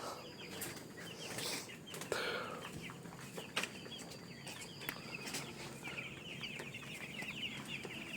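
Broiler chickens on a poultry farm cluck and call continuously, with a few sharper squawks and a brief flurry of wing flapping standing out over a steady, busy flock din.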